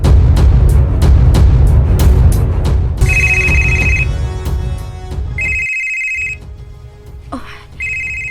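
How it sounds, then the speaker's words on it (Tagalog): A telephone rings in repeated short, loud electronic bursts, following a stretch of dense low background noise. "Si Tita Corazon ang nanawag"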